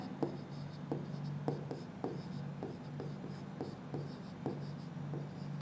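Faint scratching of a pen or marker writing out an equation, short strokes tapping at an irregular pace over steady room hum, with no talking.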